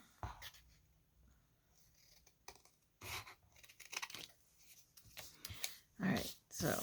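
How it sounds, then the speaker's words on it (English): Scissors snip through a paper strip for a craft belly band in several crisp, close bursts of cutting, separated by quieter pauses. "all I'm going to do is just cut it"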